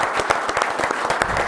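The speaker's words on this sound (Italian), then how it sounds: "Un applauso a Moreno." Audience applause at an Italian motorcycling federation gathering, heard as a short burst of crowd clapping with distinct individual claps standing out, steady and fairly close, no voices.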